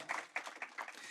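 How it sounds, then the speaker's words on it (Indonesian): A church congregation claps together, a short burst of dense, bright applause that comes in uneven pulses, heard alone without talk. "berikan tepuk tangan buat Tuhan kita"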